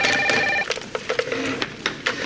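A telephone rings in a French sitcom apartment. A steady electronic ring tone lasts about half a second, then gives way to clattery handling sounds as it is picked up.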